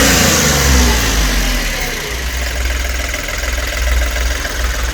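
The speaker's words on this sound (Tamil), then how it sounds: "இப்போ நான் ரேஸ் பண்ணுறேன், வண்டி எப்படி இருக்கு பாருங்க" A 2021 Ashok Leyland Dost LS 4 light truck's diesel engine revs up and then settles back, loud and close with a steady throbbing rumble.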